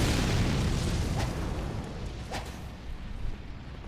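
A legendary armament's explosion attack in Elden Ring sets off a loud, deep booming blast that rumbles heavily at first, then fades into a lingering roar with a couple of smaller crackling bursts.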